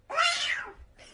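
A single loud, drawn-out cat meow, apparently voiced as an imitation sound effect, heard close up and alone, followed by a brief quieter trailing sound.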